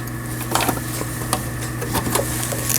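A Brother SF3700 sewing machine runs with a steady low motor hum and a soft mechanical whir, with faint light knocks and clicks over about three seconds and no voices.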